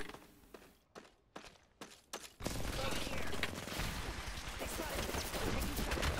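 Gunfire in a shooter video game starts as a few scattered sharp shots and mechanical clicks, then swells into a dense, continuous roar of rapid fire.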